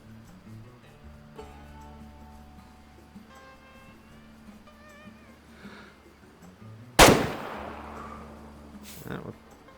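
A rifle shot at a badger in the hunting video game Way of the Hunter on PS5: one loud, sharp crack with a short ringing tail, then a fainter knock, preceded by quiet ambient game sounds and a voice talking.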